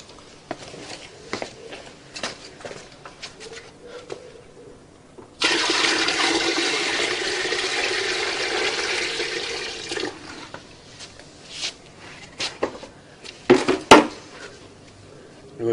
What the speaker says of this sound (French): Je vais verser tout l'eau, ça va?